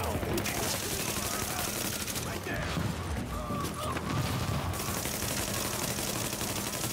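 Shotgun blasts and a wash of gunfire in The Division 1.2 during a firefight, a loud dense barrage with mechanical clatter and crashes, under occasional talk.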